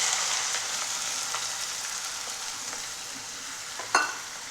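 Chopped onions hit hot coconut oil and fry with a steady, bright hiss, broken by a few light stirring clicks and a sharper clack near the end, with no voices.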